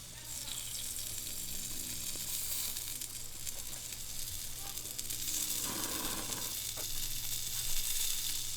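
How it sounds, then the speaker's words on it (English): Salmon on a cedar plank sizzles steadily on a Weber Q gas grill while an olive oil Mediterranean baste is brushed on, a loud continuous hiss with faint brushing and crinkling over it. "We're just gonna brush that sauce all over our salmon."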